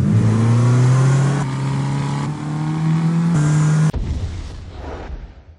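A Fiat 500 Abarth revs hard, the engine note climbing and holding in loud stepped pulls before cutting off sharply with a pop, then fading into a short, quieter tail.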